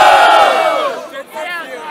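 Loud crowd roaring and shouting at a Brazilian rap battle between MCs, a dense wall of voices that swells at first, dips briefly, then rises again.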